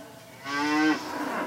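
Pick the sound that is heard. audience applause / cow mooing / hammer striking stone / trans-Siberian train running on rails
cow mooing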